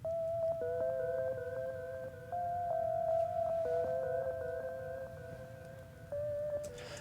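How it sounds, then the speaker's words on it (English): Synth flute from the Analog Lab Flute Solo preset playing a smooth legato melody in a trap beat, breathy sustained notes sliding between pitches with light vibrato over a faint low backing. "This synth flute sounds really fire."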